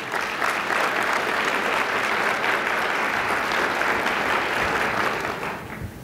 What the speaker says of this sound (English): Give yourselves an applause for that.